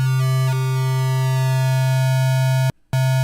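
A steady, buzzy bit-crushed sine wave synth tone from NI Massive with a gritty, stepped digital edge and bright overtones, held continuously apart from one brief dropout near the end.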